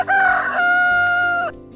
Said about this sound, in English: do you know what sound a rooster makes?